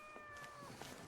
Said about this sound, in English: It's that damn cat again.